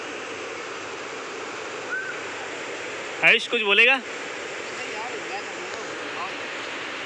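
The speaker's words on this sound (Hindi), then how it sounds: "सुनो बस पानी की आवाज़ सुनो।" Steady rushing water flowing near an army SSB camp area in a tiger reserve, a constant broad wash throughout, with a brief voice speaking over it midway.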